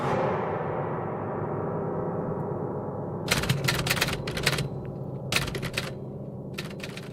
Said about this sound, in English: Typing last night's notes, I see.